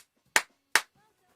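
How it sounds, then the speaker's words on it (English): One person gives two sharp, separate claps about half a second apart in a quiet room during a pub quiz. "Rachel misses the clapping. Here's a clap for you"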